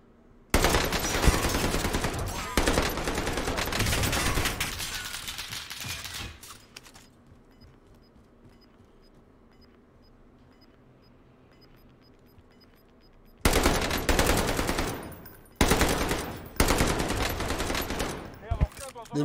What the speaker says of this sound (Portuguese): Dei muito tiro nos caras lá